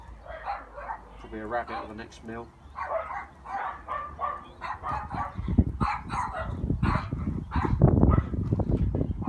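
Dog barking outdoors near a cooking grill while chilli cheese burgers cook, several barks and yips mixed under ongoing speech.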